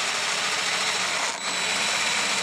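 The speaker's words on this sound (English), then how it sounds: "And just press on the drill a little bit, not too hard. It's biting at the plastic." A power drill runs steadily while driving a screw into a plastic window latch on a school bus conversion. The whir is continuous and fairly loud, with one very brief dip partway through and no talk.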